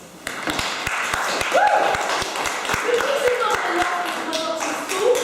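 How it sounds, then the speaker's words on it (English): A round of applause from a class of students for the inner ring at the end of a Socratic seminar, brisk uneven clapping of a small group in a room, with voices rising briefly over it. "can we just all give the inner ring a round of applause?"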